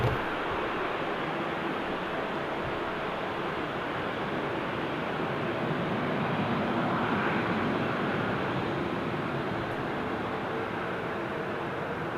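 A Boeing 777 takes off at Amsterdam Schiphol Airport, its engines making a broad, steady roar that swells slightly midway and holds for the whole stretch, with no voices.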